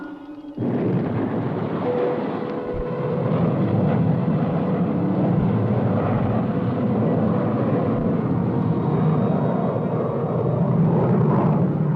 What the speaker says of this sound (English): Firing retro rocket.